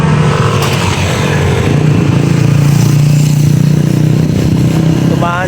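A motorcycle engine drones loud and steady on a ride with a baby aboard, its constant low hum and road rush filling the whole stretch without a break.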